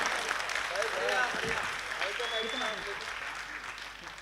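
Audience applause at a mushaira poetry recital in Pant Nagar, a steady wash of clapping from the crowd with a voice speaking over it in the middle, fading slightly toward the end.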